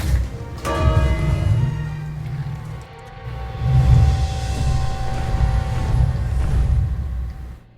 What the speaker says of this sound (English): Probably ring the bell.